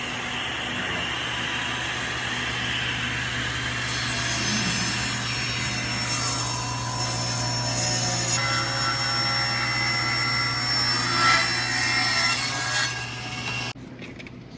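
A saw blade rips steadily through a wooden board for an acoustic guitar neck, a continuous close grinding whine over a low motor hum that stops abruptly near the end.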